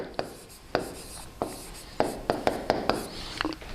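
Chalk or marker taps and scratches on a board during a thermodynamics lecture, a series of short sharp strokes in an uneven rhythm, close and fairly quiet.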